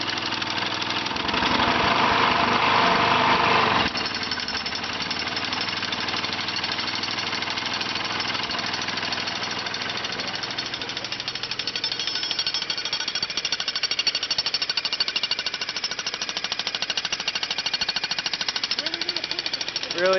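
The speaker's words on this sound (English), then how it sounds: "Got my old generator running." Old restored generator running under heavy load on a demolition site, a steady rough mechanical engine drone with rapid knocking pulses, louder for the first few seconds then continuous and close throughout.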